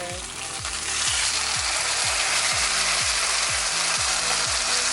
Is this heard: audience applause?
no